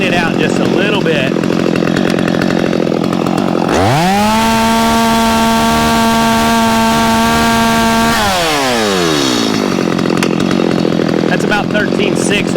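A Stihl MS250 chainsaw revs up to a steady high-RPM scream held for several seconds during carburetor tuning, then drops back to idle; someone talks before and after the run.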